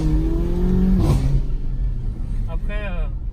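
A sports car's engine revs hard during a launch control start, a loud rising rumble that peaks briefly then settles, with people talking over it.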